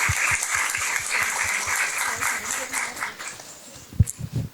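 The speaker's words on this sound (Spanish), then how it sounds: "Les pido un aplauso para Gabriela Riveros" An audience applauds for Gabriela Riveros, a former creative writing teacher at Tecnológico de Monterrey, during a book event for Mónica Castellanos's Carbón Rojo: steady, dense clapping that tapers off, then a few louder scattered claps near the end.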